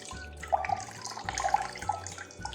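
Liquid pouring into a jar of garlic cloves for fermenting, a gurgling trickle with bubbly splashes in a few bursts, close and alone.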